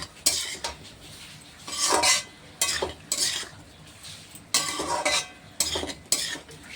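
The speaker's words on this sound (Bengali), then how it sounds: "একদম আঁচ কমিয়ে সুন্দরভাবে এটাকে নাড়াচাড়া করব" Pumpkin greens chorchori stirred in a pan over low heat, with bursts of scraping and clinking from a utensil against the pan coming in irregular strokes, close and fairly loud, with no talking.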